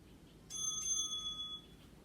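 A small bell rings out clearly to end a stretch hold in a gentle spinal mobility session, one bright strike with a sustained ringing tone that fades over about a second over quiet room hiss.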